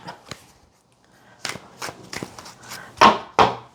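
Tarot cards are shuffled in short bursts: several crisp riffling and tapping sounds, close and moderately loud, separated by brief quiet gaps.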